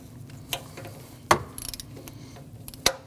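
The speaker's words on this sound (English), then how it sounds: "Snug that. You want that torqued to 80 inch-pounds." Torque wrench snugging a camshaft position sensor bolt to 80 inch-pounds on a 2014-2023 Jeep Cherokee 2.4L, heard as a few sharp isolated clicks and light ratcheting taps spread over three seconds in a quiet garage.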